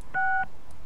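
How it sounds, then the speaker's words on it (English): A phone keypad in the Leisure Suit Larry Reloaded video game sounds one clear, steady dialing beep, then a fainter short blip a moment later, with nothing else behind them. "You pick up the phone, and to your delight, you get a dial tone."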